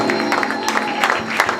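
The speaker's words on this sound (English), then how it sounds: "Can you all stand up and give God a round of applause?" Applause from a standing audience at a church youth convention, steady dense clapping with scattered cheers, the crowd mixed and moderately loud.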